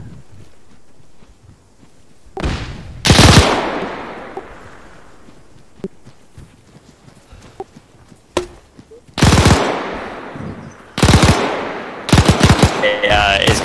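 Gunfire from the military shooter Arma 3 comes in loud, sharp bursts of automatic fire, separated by quieter stretches of ambient rumble and wind. It builds to rapid repeated volleys near the end.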